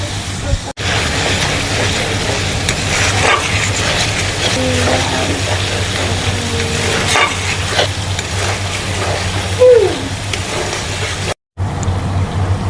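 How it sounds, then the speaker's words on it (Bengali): Spice paste fries in a pan for a borboti paneer curry as a little water goes in, making a continuous close sizzle with scraping stirs and a few brief clatters. "অল্প করে জল দিয়ে দিয়ে মশলাটাকে কষিয়ে নেব।"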